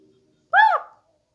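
A crow caws once in the horror video game Hello Guest, a single short harsh call standing clear and loud against near silence.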